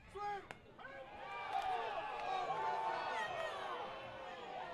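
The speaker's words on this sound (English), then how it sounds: "that's a lot of groans from the crowd" A baseball crowd groans at a close breaking-ball pitch, a broad swelling murmur of many voices rising and falling over several seconds, with a couple of sharp knocks at the start and light chatter mixed in.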